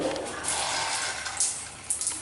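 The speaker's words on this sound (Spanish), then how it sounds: "observamos ducha con su respectiva lluvia." Water from a shower head runs in a bathroom, a steady close hiss of falling water with a few brief splashy spikes.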